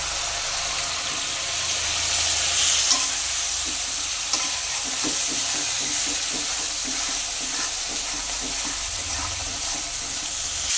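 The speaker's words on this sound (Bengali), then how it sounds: "আলু মশলা ভালো করে কষানো হয়ে গেছে।" Potatoes and spice masala fry in oil in a pan with a steady, dense sizzle throughout, plus soft rhythmic scraping from stirring in the middle.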